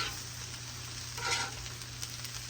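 Diced chicken sizzles steadily in a pan, a soft continuous frying hiss with faint crackles and a brief louder burst partway through, heard alone without voices.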